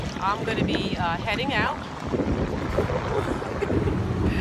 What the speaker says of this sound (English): it is so windy on the lake over here.